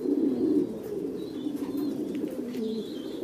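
Pigeons coo continuously on an industrial-scale pigeon farm, a low soft throaty murmur from many birds close by, with faint chirps above and no voices.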